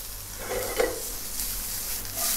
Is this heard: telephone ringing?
no